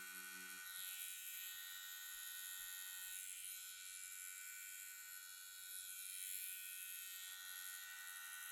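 A tattoo machine needle hums in a steady high electric buzz throughout, close and continuous with slight swells in intensity, while the needle is worked into skin during a simple tattoo, with no talking.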